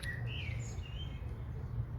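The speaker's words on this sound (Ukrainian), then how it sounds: "А пташки." Several small birds chirp and whistle in short rising and falling calls over a low steady background rumble.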